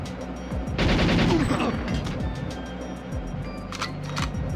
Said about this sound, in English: so I'm gonna reload